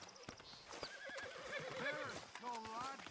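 A horse whinnies in Red Dead Redemption 2, a drawn-out, wavering neigh rising and falling over several seconds, close and moderately loud, with hoof clops and brief voices around it.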